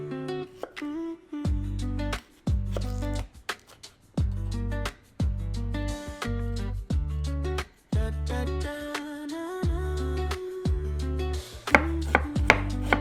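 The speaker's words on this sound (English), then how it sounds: "Then mince 1/3 cup of ginger." A knife mincing fresh ginger by hand on a cutting board, with steady, rhythmic chopping strokes in quick clusters and short pauses between, close and clear with no talking.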